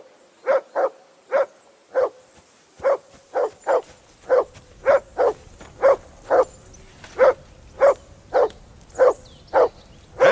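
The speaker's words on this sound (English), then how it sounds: "Whistle at that mutt of yours to stop barking!" A dog barks repeatedly in the video game Kingdom Come: Deliverance II, a steady run of about twenty sharp, evenly spaced barks, close and loud over a quiet background.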